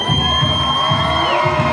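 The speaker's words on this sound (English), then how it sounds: "Getting the crowd pumped up and ready to go." A wrestling match crowd cheers, whoops and yells in a steady, dense roar with no breaks, loud and close throughout.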